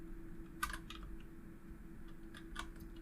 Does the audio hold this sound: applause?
no